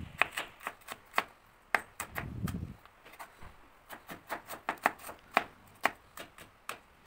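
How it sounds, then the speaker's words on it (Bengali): A large onion is finely chopped with a knife on a board, giving a quick series of crisp, close taps in an uneven but steady rhythm, with a brief soft rustle partway through and no talking. "পেঁয়াজ ছুলে কুচি করে নেব। মিহি করে কুচি করতে হবে।"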